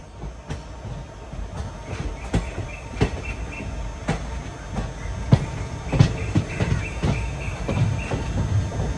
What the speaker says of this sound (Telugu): వ్యాప్ 4 లోకోమోటివ్ అయితే శబరి ఎక్స్ప్రెస్ ని పుల్ చేస్తుంది